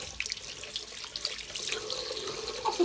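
Tap water running into a container, a steady splashing hiss that grows slightly fuller as it fills, close and moderately quiet with no voices.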